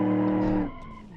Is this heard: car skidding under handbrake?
yes